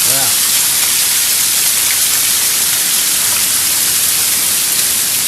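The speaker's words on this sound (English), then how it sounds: "Now we got a hailstorm." Hail pelting down in a Florida storm, a dense, loud, hissing roar of ice hitting surfaces that stays constant throughout, with faint background voice.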